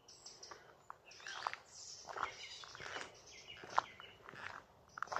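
A song thrush sings in bright, varied repeated phrases from some distance, with faint footsteps and rustling close by.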